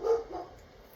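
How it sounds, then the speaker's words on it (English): A single sharp dog bark at close range, loud at the start and quickly fading within a second, heard indoors with no talking over it. "My dog is losing his mind."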